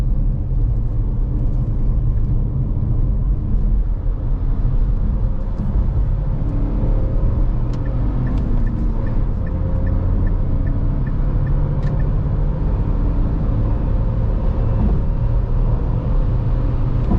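A Dacia Duster Extreme 4x4 2024 with a 130 HP engine speeds up on a night drive, its engine and road noise forming a steady, loud cabin rumble that swells slightly as it accelerates.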